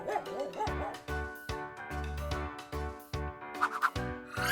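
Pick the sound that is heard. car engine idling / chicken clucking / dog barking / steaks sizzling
dog barking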